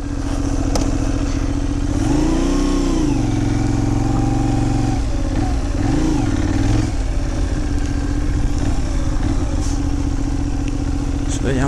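Benelli 752S motorcycle being ridden, its engine droning steadily and loud throughout with a rising and falling rev sweep, while a rider's voice talks over it.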